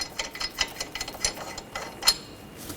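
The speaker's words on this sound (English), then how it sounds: "Remove the lug nut." A ratchet clicks in quick, uneven bursts while loosening a lug nut on a 2003-2008 Subaru Forester front wheel, close and moderately loud, a short run of metallic ticks with a brighter click near the end.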